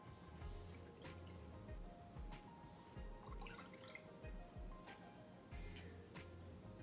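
Lemon juice poured out of a container while making lemon meringue pie, giving a steady liquid trickle with soft drips and splashes, close and fairly quiet, no talking.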